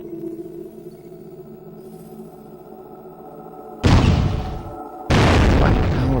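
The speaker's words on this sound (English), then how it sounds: "I call it the guided leg cannon. It is very powerful, but uses special ammo." The guided leg cannon fires twice in the Blood Will Tell video game, each shot a loud, booming blast that cuts sharply over quieter background game music.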